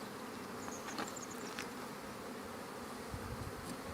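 A dense, continuous buzz of honeybees around hives in March, a steady drone with individual bees flying past now and then, moderately loud and without voices.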